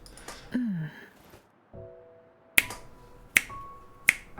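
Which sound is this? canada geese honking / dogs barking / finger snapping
finger snapping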